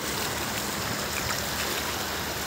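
Cold stream water rushing steadily while someone wades barefoot through it, a continuous close broadband wash with no voices.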